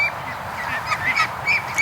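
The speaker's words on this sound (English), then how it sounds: "Oh, with a goose." A young goose honks repeatedly among a small group of ducks outdoors in a front yard, the nasal calls loud and close, coming in quick irregular bursts over soft background noise.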